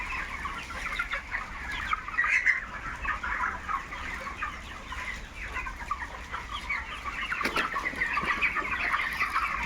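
Broiler chickens on a chicken farm cluck and chatter steadily throughout, a dense flock of overlapping bird calls with a brief sharper squawk near the end.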